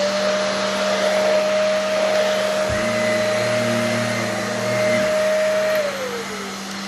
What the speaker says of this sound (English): Let's vacuum that up.